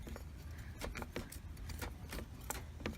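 A rusty hood latch on a 2001 Ford Taurus rocked back and forth by hand, giving quiet repeated metallic clicks and rattles in an irregular rhythm, close and faint.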